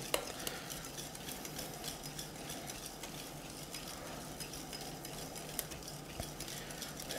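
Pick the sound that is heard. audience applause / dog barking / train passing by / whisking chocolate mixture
whisking chocolate mixture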